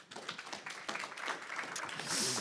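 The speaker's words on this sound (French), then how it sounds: "Sous vos applaudissements" A live audience applauds a journalist from Le Point being welcomed onto a conference stage, dense steady clapping filling the room for a couple of seconds and swelling slightly at the end.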